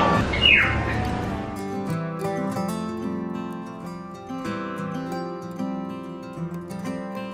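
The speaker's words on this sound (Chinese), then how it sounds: "嘿，这鸟叫好大声！" A loud bird calls near a roadside under construction, bright repeated chirps and tweets, one sharp call at the start, then steady calling over a low background hum.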